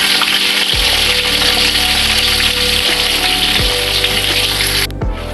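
Onions added to hot oil for chicken biryani, a loud continuous hiss of frying right up close, with a low hum and a few shifting tones underneath, dropping slightly at the very end.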